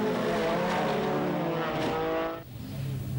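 Rallycross cars race hard, their engines roaring loud and close with tyres scrabbling and skidding. The noise drops away abruptly near the end, leaving a quieter engine drone.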